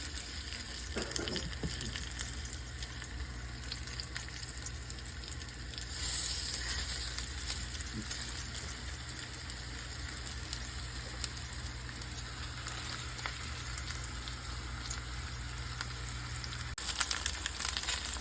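Turkey wings fry in a skillet with a steady, dense sizzle that holds unbroken and fairly close for the whole stretch, with no talking over it.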